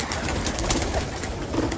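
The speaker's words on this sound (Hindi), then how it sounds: "ये बड़ा कबूतर, ये किसी का मुझे लगता है जोड़ू निकला हुआ कबूतर है" A released pigeon, a big stray pigeon let go by hand, gives soft cooing and flutter amid steady outdoor ambience, near and moderately loud for under two seconds.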